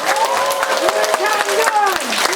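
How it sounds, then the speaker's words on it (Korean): Crowd at a political rally applauding, with dense clapping under loud overlapping voices and cheering, near and strong throughout. "박수 주십시오"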